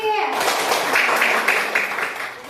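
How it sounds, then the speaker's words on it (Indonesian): A burst of clapping from a group, dense and bright, sustained for a couple of seconds with a voice briefly audible at the start. "Tepuk tangan sekali lagi."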